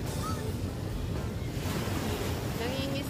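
Sea waves wash continuously onto the shore where people fish, a steady roaring surf with wind buffeting the microphone throughout.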